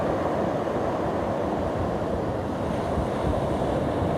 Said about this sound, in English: You can see how some good old waves turning over